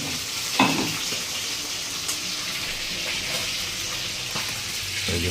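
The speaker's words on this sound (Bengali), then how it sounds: "এই যে মাছ ভাজা হচ্ছে এখন।" Fish, likely katla, sizzles steadily in a home kitchen pan, with a constant close crackle and a few brief clinks of stirring.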